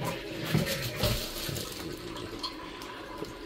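A cabin toilet flushes now that water is running, giving a close, gushing surge at the start that eases into a steady rushing refill, with no voices.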